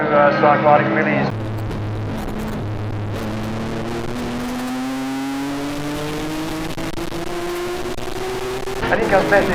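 Cars in an Improved Production race at Baskerville circuit. Engines blare as they pass close by, with one car's note rising steadily as it accelerates down the straight, under excited commentary.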